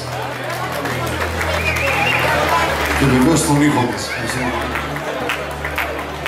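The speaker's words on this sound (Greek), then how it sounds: "Ένα δυνατό χειροκρότημα εδώ στην ΠΑΤΑ μας" A crowd at an annual Pontic gathering applauds loudly and continuously, dense clapping blended with cheering and crowd babble, while someone speaks over a microphone and music hum lingers beneath.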